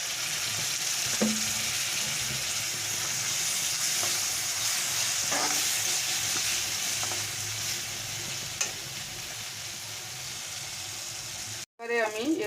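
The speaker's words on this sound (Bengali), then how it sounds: "এই সময় মশলাটাকে আমি অল্প পরিমাণ জল দিয়ে ভালো করে কষে নেব" Spice paste with a little water frying in a pan for pomfret jhal, a steady close hiss and sizzle running throughout, with a few scattered stirring knocks and a brief break near the end.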